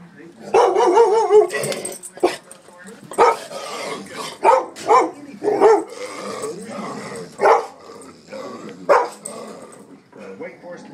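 A dog barking at a Halloween mask, a string of loud, close barks and growls in irregular bursts, some sharp and some drawn out, with a voice speaking between them.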